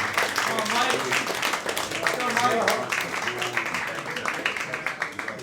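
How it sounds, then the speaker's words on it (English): Applause from a comedy club audience as comedian Mike Morrison comes to the stage, a steady wash of clapping with cheering voices mixed in. "let's keep the clap going for Mike Morrison"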